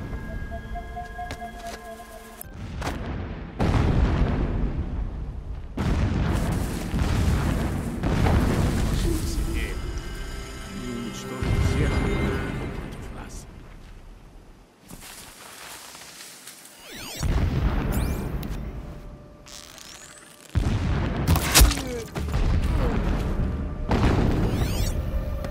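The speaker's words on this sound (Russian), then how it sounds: "Взрывы заглушат любой шум." Explosions go off in the video game Horizon Zero Dawn as several loud, deep booms and rumbling bursts, separated by quieter stretches. A voice talks between the blasts.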